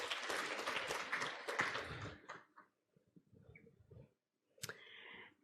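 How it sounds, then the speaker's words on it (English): An audience applauds at a corporate finance conference in Shanghai, a few seconds of dense clapping that quickly fades to scattered claps and quiet, with a final brief clap burst. "So big round of applause to the company."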